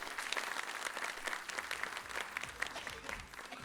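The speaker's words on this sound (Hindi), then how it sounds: "आपकी तालियों के बीच।" Audience applause at a televised tribute event as India's first professional woman tabla player is welcomed to perform; dense, steady clapping from a crowd fills the short stretch without a break.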